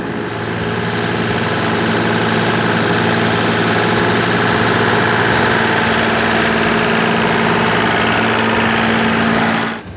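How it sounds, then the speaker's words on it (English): Small lawn mower engine running steadily outdoors at close range, a loud continuous drone with a strong hum, holding level for about ten seconds before it cuts off at the very end. "just came in and shut the mower down"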